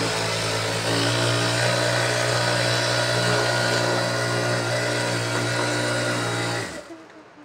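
A sewing machine runs steadily while stitching a running mat, its continuous motor whir and rapid needle hum holding loud and even for several seconds before cutting off near the end.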